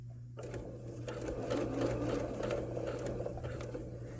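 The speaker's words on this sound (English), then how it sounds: "you're going to continue to sew the 5/8 all the way around" A sewing machine runs steadily, stitching fabric along a 5/8 inch seam guided by tape, with a continuous close motor whir and rapid needle rhythm and no talk.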